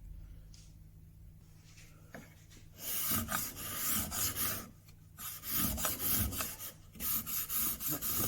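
A sharp hand scraper rasps across a wooden bread board in a series of close, dry strokes, after a quieter stretch of light handling at the start.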